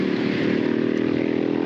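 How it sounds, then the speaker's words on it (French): Motorcycle engines drone steadily and loudly throughout, a dense continuous rumble with no clear pass-by swell and no voices. "Il semblerait que les motos soient sorties."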